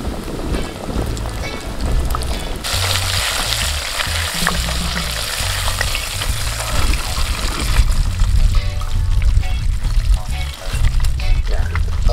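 Cheesy fried chicken cooks in bubbling oil outdoors, with a loud, continuous sizzle and crackle that swells midway, while someone talks over it.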